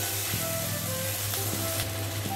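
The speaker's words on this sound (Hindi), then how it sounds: "इसे अच्छी तरह मिला देते हैं सारे चीज़ों को" Steady sizzling and frying in a pan as ginger and sauces are stirred into dry chilli chicken, a continuous hiss with occasional scraping strokes throughout.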